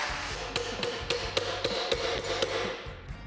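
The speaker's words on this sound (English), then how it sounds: "make a little dolly tool that we can hammer the thing back into shape with" Metal being hammered back into shape against a handmade dolly tool in a garage workshop, a run of about nine sharp, evenly spaced ringing blows close by, with no talking.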